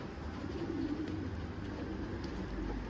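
Soft, low cooing from a bird blends into steady background noise, faint and continuous throughout.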